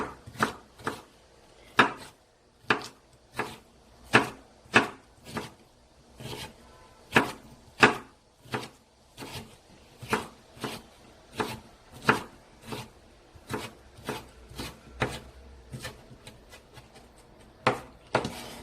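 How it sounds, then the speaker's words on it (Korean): A kitchen knife slices a peeled carrot into thin julienne strips on a cutting board, giving a steady run of sharp, close, evenly spaced chops with no one talking. "당근 한 개는 이렇게 얇게 채를 썰어서"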